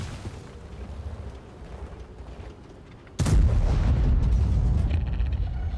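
The Grille 15 tank gun fires in World of Tanks: after a quiet stretch of engine rumble, a single sudden heavy boom hits and rolls into a loud, sustained roar that lingers afterward.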